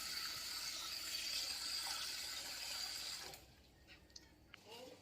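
Water runs from a kitchen tap into a container for household cleaning, a steady rushing stream for about three seconds that then stops, followed by faint clinks.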